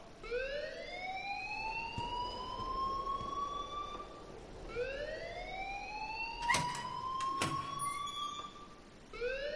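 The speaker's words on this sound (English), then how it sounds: "please turn off that alarm since that's your job" Rising, wailing electronic alarm in the video game Life is Strange, repeating in sweeping cycles of about four seconds with a few sharp clicks partway through, steady and fairly prominent without speech.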